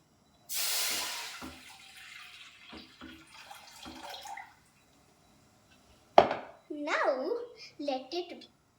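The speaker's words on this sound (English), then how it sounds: "Now I'm going to pour the water in." Water is poured into a cooking pot on a stove for macaroni and cheese in one short, hissing splash, followed by scattered faint drips and taps, with someone speaking afterward.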